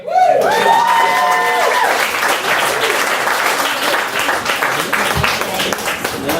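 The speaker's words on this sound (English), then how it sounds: "I want you to give a massive round of applause for our next star on the show" A stand-up comedy audience in Phnom Penh applauds a comedian coming on stage. The dense, sustained clapping starts loud with a few whoops and cheers, then carries on steadily to the end.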